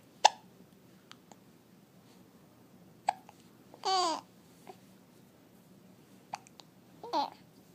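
Several separate hiccups, sharp and close, spaced irregularly across a quiet stretch with small clicks and breaths between them.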